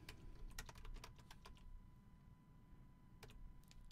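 Fast clicking keystrokes on a computer keyboard, close and fairly quiet, typed in two bursts with a short pause between them.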